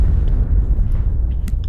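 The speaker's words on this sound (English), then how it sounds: "Always in an explosion." An explosion in the video game Resident Evil Darkside Chronicles: a loud, deep, sustained rumbling boom with heavy low-end roar and a few faint crackles on top, with no speech.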